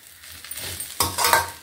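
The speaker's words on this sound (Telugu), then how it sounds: "ఇంకా కొంచెం వేగాలి. గోంగూర వేగిపోయింది." Gongura leaves frying in a pan, a soft sizzle under stirring and scraping of a spoon against metal, building to a louder scrape near the end, close and without voices.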